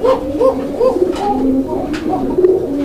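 A male pigeon coos at close range, at a low-priced pigeon sale in Bangladesh, giving a steady series of rolling, repeated coos that rise and fall for about three seconds, with no talk over them.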